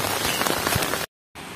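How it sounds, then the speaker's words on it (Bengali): Gentle rain falling on a surface, a dense steady patter that cuts out abruptly for a moment, then resumes. "আর এখন পুরো জল পড়ছে, আস্তে আস্তে জল পড়ছে।"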